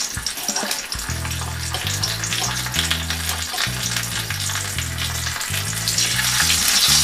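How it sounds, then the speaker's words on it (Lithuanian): Eggplant halves topped with cheese fry in a pan with a steady, close, crackling sizzle that runs unbroken under background music with low tones. "Tada dedame į keptuvę ir palaikome apie minutę,"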